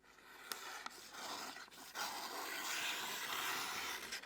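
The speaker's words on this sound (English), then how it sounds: "You hear how it sounds grittier and how it didn't even want to finish that cut?" A thin-edged knife with a coarse, gritty sharpened edge cutting through material, giving a close, rough scraping rasp with a few sharp snaps along the way, and the stroke stalls before the cut is finished.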